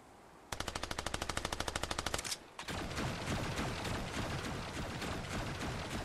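Rapid automatic gunfire in a first-person shooter game, a fast burst of roughly twenty evenly spaced shots aimed at a tree, followed by dense continuous rattling fire and clatter, close and loud with no talking.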